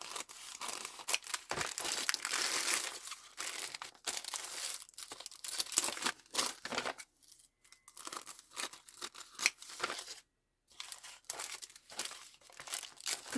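Paper being cut with scissors and crinkled while a picture is trimmed for a junk journal, with dense bursts of crisp rustling and snipping broken by two short pauses, close and fairly loud.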